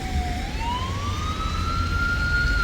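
An ambulance siren wails on a street abroad during rain, its single rising tone sweeping steadily upward at moderate distance over a low rumbling background.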